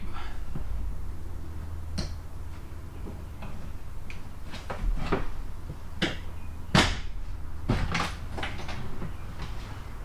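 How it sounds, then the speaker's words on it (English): A pry bar working a trim panel loose inside a Crafter van cab, giving scattered sharp clicks and pops with a couple of louder snaps as the clips release, in a quiet interior. "Get our trusty pry bar in there and it just pops away"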